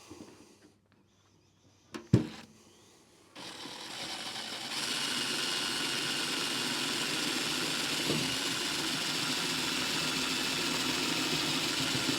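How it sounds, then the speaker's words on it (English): After a couple of quiet knocks, a power drill starts up and whirs steadily and loudly as it bores a hole through sheet metal. "We're going to drill this second hole."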